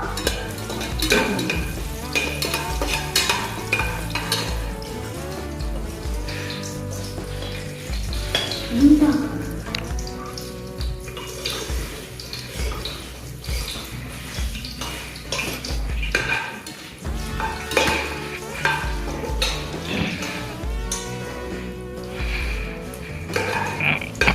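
Puffed rice with crushed garlic stirred in hot oil over a low flame, a steady scraping and rustling of the pan with soft sizzling underneath, continuous throughout.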